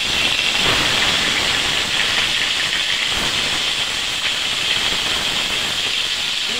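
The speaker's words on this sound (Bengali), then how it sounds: "তেলটা গরম হয়ে গেছে, আমি মাছটা ভেজে নেব।" Turmeric-coated ilish (hilsa) fish frying in hot oil produces a loud, steady, close hiss that holds evenly throughout without pauses.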